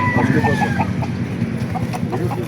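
Chickens cluck and call at a busy live-poultry market in Baliuag, Bulacan, with several birds sounding close over a constant crowd-and-market murmur.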